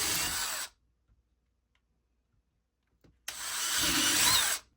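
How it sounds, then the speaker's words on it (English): A power drill whirs loudly for a moment, stops for a few seconds of near silence, then spins up again boring a hole in a small plastic costume piece. "so I know where to drill my hole"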